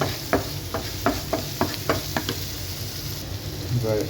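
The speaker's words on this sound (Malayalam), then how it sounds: "ഉള്ളി വഴണ്ട് വന്നിട്ടുണ്ട്" Chopped onions sauté in a pan for a Kerala-style uppumavu, a steady soft sizzle with a run of rhythmic stirring scrapes, fairly quiet and close, with no voices.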